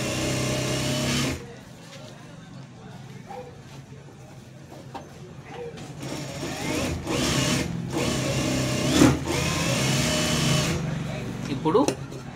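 Sewing machine stitching a blouse, its motor whirring in bursts of varying length with pauses in between, close and moderately loud, while someone speaks over it.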